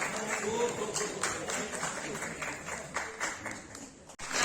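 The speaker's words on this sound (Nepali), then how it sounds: "जोरदार तालीका साथ उहाँलाई स्वागत गरौँ" An audience at a music awards ceremony in Nepal claps steadily to welcome the chief guest, a dense, continuous patter of many hands heard from within the crowd, with voices mixed in.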